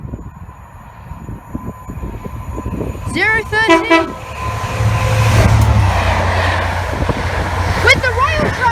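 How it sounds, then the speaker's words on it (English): A DB Cargo UK Class 67 locomotive passes near Cheddington on the West Coast Main Line, sounding a loud two-tone horn, then rumbling by with a rising engine roar and a second horn blast while a voice speaks. "a DB Cargo UK Class 67 going from DB Cargo Fan A and B sidings to Wolverton Centre sidings"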